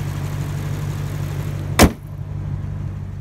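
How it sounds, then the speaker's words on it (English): A 2012 Lexus IS F with a stock V8, no intake, tune or headers, runs at a steady low idle hum, broken once midway by a single sharp click. "Sounding Lexus V8 right there."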